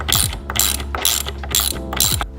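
A hand ratchet clicks in five quick bursts while tightening bolts that mount a replacement steering wheel on a motorboat, each burst a rapid run of sharp metallic pawl clicks, close and loud with no talking.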